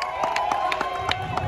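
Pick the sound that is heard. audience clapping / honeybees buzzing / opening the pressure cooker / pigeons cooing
audience clapping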